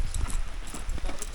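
Horse hooves clip-clop in a quick, uneven rhythm, close and fairly loud, with a few sharp knocks standing out over outdoor background noise.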